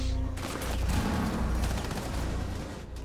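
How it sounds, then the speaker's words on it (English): Sustained automatic gunfire in Rainbow Six Siege, a whole magazine emptied in one long dense burst of rapid shots that holds loud and steady for about three seconds, with no pauses. "he took the whole mag out on you"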